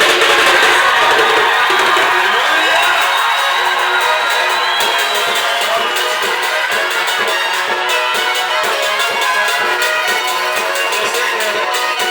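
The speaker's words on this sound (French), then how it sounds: "Applaudissez." A church congregation at a morning worship service cheers and applauds loudly and continuously, a dense crowd roar with whoops and shouts that fills the whole stretch at steady high level.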